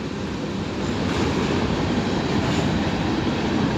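A Norfolk Southern freight train rolls past close by, a steady broadband rumble of wheels and cars on rails with faint clickety-clack, continuous and loud without any voices.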